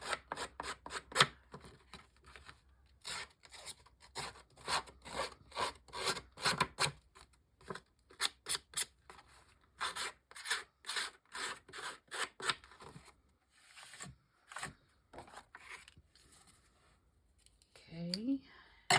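Scissors edge scraped repeatedly across paper to roughen it for a layered craft tag, a rapid series of dry rasping strokes in bursts, close and fairly loud, with a brief pause and a short voice near the end.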